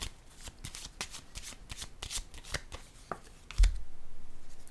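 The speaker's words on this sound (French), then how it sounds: "Je vais déposer une carte ici." Cards handled, shuffled and laid down on a table during a reading: a quick run of crisp flicks and taps, then a firmer slap as one card is set down, close and fairly loud.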